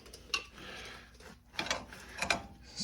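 A ratchet works loose 10mm bolts on the wheel hub of a Suzuki Grand Vitara during a wheel bearing replacement, giving three short bursts of clicking at close range, with quieter mechanical rattling between them.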